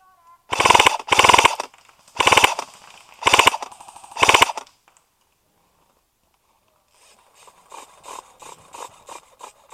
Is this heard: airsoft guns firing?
yes